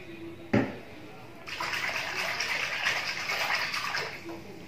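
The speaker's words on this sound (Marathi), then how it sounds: "आता आपण टब मध्ये कोमट पाणी घेतलंय, त्याच्यामध्ये शॅम्पू घालतोय" Shampoo is poured into a tub of warm water prepared for a foot soak, making a steady close pouring and splashing wash for about three seconds. A single knock comes just before it.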